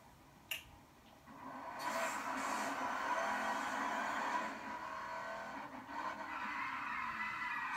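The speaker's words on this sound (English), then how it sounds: "So there you go, there's my dragster." Dragster launching in the racing game Need for Speed Payback: a sharp click, then a loud sustained engine roar with tire screech that surges for several seconds and stays strong to the end.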